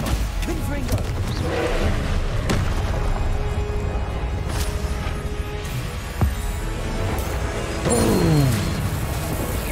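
In Hogwarts Legacy, the Confringo spell fires off as a few booming, crashing blasts over a steady background of game noise, with one sharp impact followed by a longer rumbling burst.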